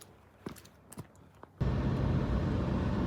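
A small car on a farm road in Japan comes in as a sudden steady broadband rush of engine and road noise, loud and close. It follows a few quieter knocks and thumps.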